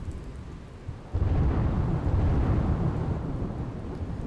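Heavy continuous monsoon rain falls in Dahod, a dense steady roar that swells suddenly with a deep rolling rumble of thunder, loud and unbroken.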